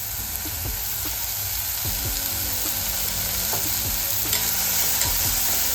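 Onion roasts in a pan for a ridge gourd bhaji, a loud, dense sizzle with continuous scraping strokes of a spatula stirring close by.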